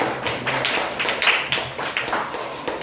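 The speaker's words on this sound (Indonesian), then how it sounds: "tepuk tangan untuk semangat, semangat, semangat." A school class claps hands in quick, uneven bursts, loud and close, with children's voices chanting "semangat" in Indonesian mixed in.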